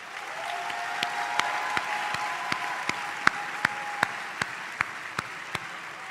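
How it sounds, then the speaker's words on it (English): Parents at a Meharry Medical College commencement receive a round of applause from the audience, a steady wash of clapping with a few sharper individual claps popping out near and regular, continuing alone for several seconds. "we must give you a round of applause"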